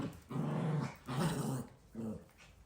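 A dog growls playfully while tugging at a stuffed toy, three low rumbling growls in a row, close but fairly quiet, with short pauses between them and no voices.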